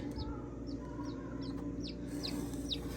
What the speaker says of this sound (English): It's just a beautiful little chicken.